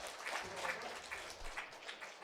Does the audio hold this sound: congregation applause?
yes